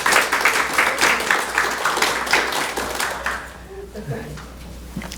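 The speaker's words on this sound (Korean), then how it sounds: "우리 박수로 우리 축복하겠습니다." A church congregation applauds during a Sunday service, a dense run of clapping that fades after a few seconds, followed by scattered sounds and a voice beginning in the background.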